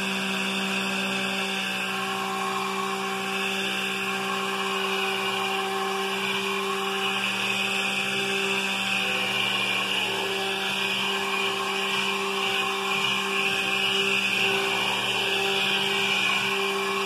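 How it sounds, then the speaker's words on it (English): A steady, continuous motor whir of an immersion stick blender mixing hot process soap batter, running without pause, close and loud, with a constant pitch throughout. "we're going to go ahead and mix this up"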